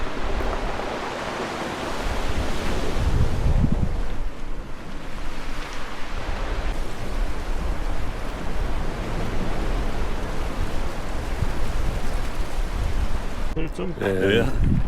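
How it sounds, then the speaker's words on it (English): Surf washes onto a small beach on Nisyros island as a continuous roar of waves, mixed with wind buffeting the microphone, and a brief voice is heard near the end. "A small little beach"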